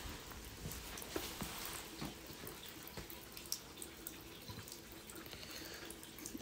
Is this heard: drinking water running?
yes